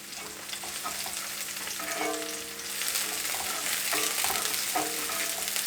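Vegetables and the white part of spring onion stir-frying for Hakka noodles, a steady loud sizzle with scraping stir strokes and clanks throughout, growing fuller after a few seconds.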